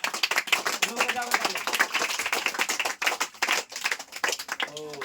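A crowd of young children claps rapidly and continuously, a dense patter of hand claps with a voice briefly heard over it.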